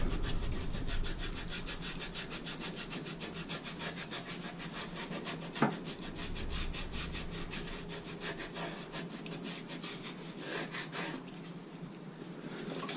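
Polish residue is scrubbed off an object in close, rapid back-and-forth rasping strokes, a steady rhythmic brushing with one sharp knock partway through and no talking.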